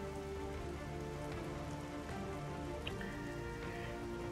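Steady rain falling in the strategy game Strategic Mind, a dense continuous patter on surfaces, fairly faint and unbroken throughout.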